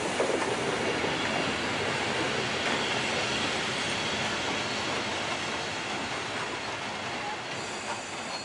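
Steam locomotive 86 457 pulling a train into the old Lütjenburg station, with a steady rolling rumble, wheel clatter and squeal at moderate distance, sustained throughout with no talk.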